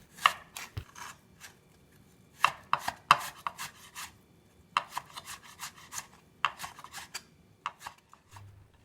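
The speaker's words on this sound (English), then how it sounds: "to cut the carrot into very thin sticks" A knife slicing stacked carrot slices into very thin sticks on a cutting board, a run of crisp, close chopping strokes in irregular bursts with short pauses between.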